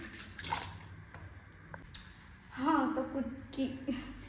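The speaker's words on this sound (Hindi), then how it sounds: "तो मैं ये देखो कुछ इतने बर्तन रह गए, तो मैं सबसे पहले इसको वॉश कर देती हूँ।" Dishes are washed under running water in a home kitchen, with dripping, splashing and the clink of utensils close by, and someone talks over the activity.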